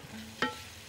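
A single brief scrape of a spoon through chicken and mushroom risotto in a pan, a short soft stir standing out against a faint background hiss.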